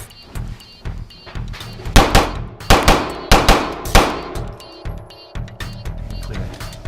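A Ruger LC9s pistol fires a string of sharp, loud shots in quick pairs at close range, each crack ringing with a metallic clang and some fainter reports mixed in between.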